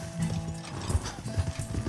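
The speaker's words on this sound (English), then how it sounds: "Get a hold of that horse, Arthur." Horse hooves clip-clop unevenly nearby in the video game Red Dead Redemption 2 while a horse whinnies, with a soft background hum.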